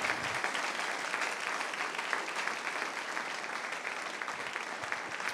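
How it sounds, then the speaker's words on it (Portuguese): A church congregation claps loudly and steadily at a Foursquare service, dense continuous applause filling the room for several seconds with no speech over it. "Quem crê, glorifica e aplauda forte esse nome que é santo."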